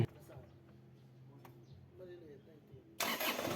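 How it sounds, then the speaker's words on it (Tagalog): Quiet background murmur with faint sounds, then an Isuzu Crosswind engine with a starting fault cranks and catches abruptly near the end, turning into a loud, noisy burst. "papatayin ko naman yung makina ngayon tapos i-start ko, dapat one click na yan"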